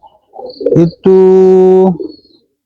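A pigeon coos nearby: a short warbling call followed by a long, steady, resonant coo, loud and clear against quiet surroundings.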